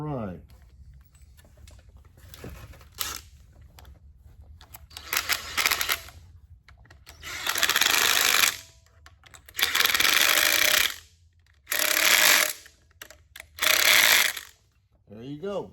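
Hand tools ratchet and clatter in bursts while a new Holley fuel pump goes onto a 415 cubic inch small-block Chevy race engine, several separate rattling spells broken by quiet gaps.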